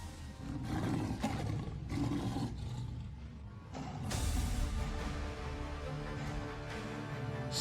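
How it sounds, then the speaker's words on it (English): A tiger lets out deep, rumbling roars, loud and close, in several rolling bursts with a powerful surge midway and no voices over them. "King of the jungle, the tiger."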